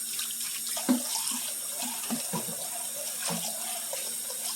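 Tap water pours into a crock pot filling it for soaking, a continuous close splashing rush with small gurgles and knocks as the level rises, steady throughout and free of speech.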